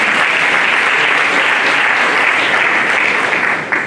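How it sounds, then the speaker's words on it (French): Enthusiastic audience applause for advisory council members standing up at a World Vision Mali prayer day gathering, loud continuous clapping sustained throughout and easing slightly at the very end. "S'ils peuvent se tenir debout, comme ça, on va vous acclamer"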